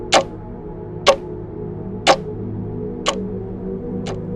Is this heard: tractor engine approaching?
no